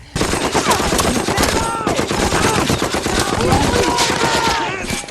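Dense, continuous gunfire from a war TV series battle scene, with rapid bursts like machine-gun fire and scattered shots, loud and sustained throughout, with faint shouted voices mixed in.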